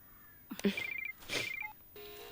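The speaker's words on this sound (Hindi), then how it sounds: "सईद भाई का फोन है" An electronic telephone ring warbles twice in quick bursts, fairly close, followed by a steady tone, with no talking.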